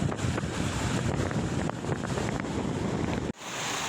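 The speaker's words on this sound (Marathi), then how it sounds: "पावसाचे पाणी प्रथमच तलाव ओव्हरफ्लो" Rainwater overflowing from a village lake at Motewadi after five days of heavy rain, heard as a loud, steady, close rushing wash with wind buffeting the microphone, cutting out abruptly near the end.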